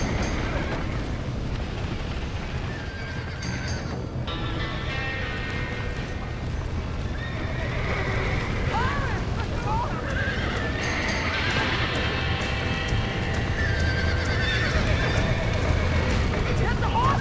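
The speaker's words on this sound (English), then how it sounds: "Get the horses, Mr. Boston!" Horses in the Red Dead Redemption video game whinny repeatedly and gallop as a loud, busy action scene plays, with hooves, crashes and shouting voices layered throughout.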